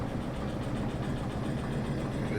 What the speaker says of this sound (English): Let's crank the engine, and the sound is going to be too high, of course.